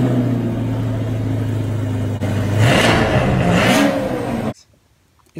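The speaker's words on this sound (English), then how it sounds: "Here's the cold start of the C8." A 2020 Chevrolet C8 Corvette's exhaust on a cold start: a loud, steady engine drone that swells into a rev partway through, then cuts off abruptly near the end.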